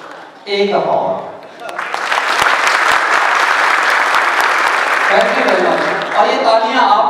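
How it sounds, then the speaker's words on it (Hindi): Loud, sustained applause from an audience at a tech conference, the ITCN Asia exhibition in Islamabad, rising from a short burst of claps into steady dense clapping for several seconds, with a speaker's voice briefly before and after. "ये तालियां आपने अपने लिए बजाई हैं"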